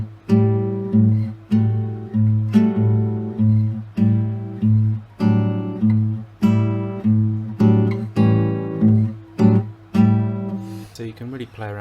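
Plucked guitar notes in a bouncy, syncopated pattern, repeating short phrases with steady low bass notes underneath, clear and close.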